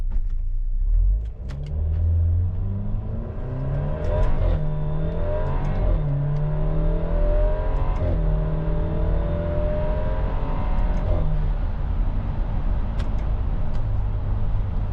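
An Alfa Romeo Giulia accelerates hard on a city street from a red light, its engine note climbing loud and close through several rising sweeps between gear changes, with a steady low rumble beneath and no talking.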